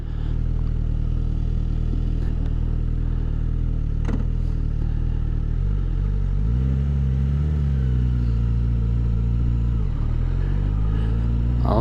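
A 2024 Suzuki GSX-S1000 GT motorcycle rides steadily with a loud, continuous engine drone and wind rush, its pitch dipping and rising through quick gear shifts made with the auto blipper, heard close from the rider's position.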